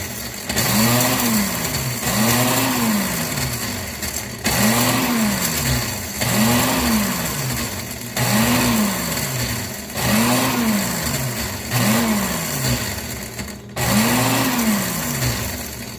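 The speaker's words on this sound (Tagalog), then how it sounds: "Hindi ko lang binibigla yung aking panggiling kasi hindi gaganda yung resulta kapag punong-puno" Electric grinder grinding ingredients into powder: repeated short pulses of whirring motor, each rising and falling in pitch, about eight bursts in steady rhythm, loud and close with no talk.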